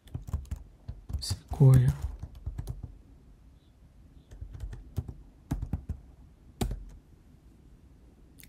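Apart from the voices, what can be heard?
typing a search on a Mac computer keyboard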